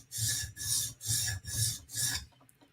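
A knife is sharpened on a stone in five even, rasping strokes of about half a second each, close and clear with short pauses between them and no voices.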